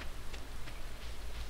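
Steady soft rain patter falling in the Stardew Valley farming game, a constant even hiss with faint scattered drop ticks and a low hum underneath, no voices.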